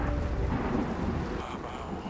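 Steady heavy rain with a low rolling rumble of thunder in the video game Yes, Your Grace, a dense continuous wash of storm noise with no speech.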